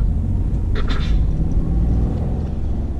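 Peugeot 2008 engine pulling steadily as the driver shifts into second and climbs through the gears in town, a continuous loud low rumble from inside the cabin with no talking.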